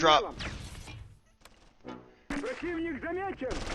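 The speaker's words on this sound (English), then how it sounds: "All right, mortars, drop." Mortar rounds land in the World War II strategy game Close Combat III, with short booming blasts broken up by a voice talking over the battle.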